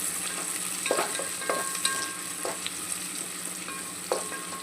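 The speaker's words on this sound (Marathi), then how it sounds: "लालसर कलर येईपर्यंत चांगलं परतवायचा।" Onion sautéing in a pan until reddish brown, a steady close sizzle with occasional stirring scrapes and clicks, heard alone without speech.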